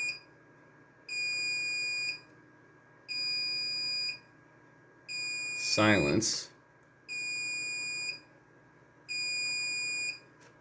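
A computer RAID controller alarm sounds as a steady series of loud, piercing electronic beeps, each about a second long and evenly spaced. A quick, close rustle cuts across the middle while a fan hums underneath.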